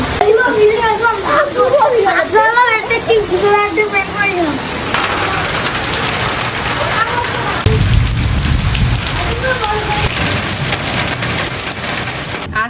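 Heavy rain pours steadily in a loud, dense wash throughout, with a voice talking over it early on and a faint rumble later.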